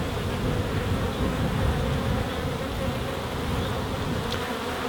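Honeybees buzz close around a beekeeper working an open hive, a steady, dense hum of several insects circling near the microphone.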